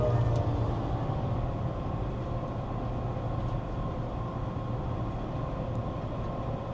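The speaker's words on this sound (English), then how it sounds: "Look, there's a train. A big-ass train," A big train rolls past during a drive, a steady low rumble and rattle of rail cars running continuously and fairly loud from start to finish.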